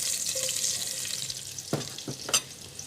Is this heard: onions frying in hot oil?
yes